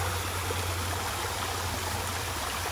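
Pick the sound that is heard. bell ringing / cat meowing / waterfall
waterfall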